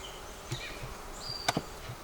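Honeybees from two resource colonies buzz faintly around their hives during robbing in a nectar dearth, a low, quiet hum with a few brief sharper passes and clicks close by.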